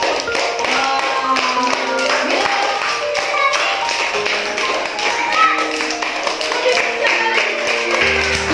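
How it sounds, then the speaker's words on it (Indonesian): A group of people clap their hands along with a parent's storytelling session, producing a run of quick, rhythmic claps at close range over a bed of voices and tones. "Coba yuk tepuk tangan seluruh warga"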